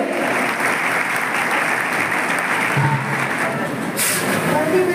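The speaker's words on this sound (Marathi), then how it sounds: "विद्यार्थी तुमच्या टाळ्या कशा यायला पाहिजे." Students applauding at an academy award ceremony, sustained loud clapping from a crowd filling the hall, steady throughout with faint voices underneath.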